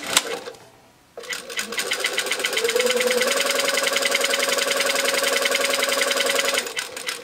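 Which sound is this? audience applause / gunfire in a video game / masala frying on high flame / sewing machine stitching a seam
sewing machine stitching a seam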